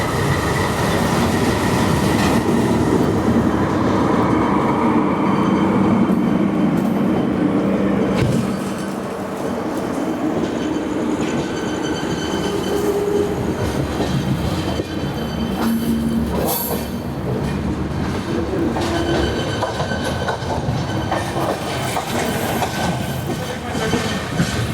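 Hussain Sagar Express, a 16-coach passenger train running from Mumbai to Hyderabad, rolls along with a steady loud rumble, rhythmic clickety-clack of wheels over rail joints and occasional metallic squeal, continuous throughout with no talk.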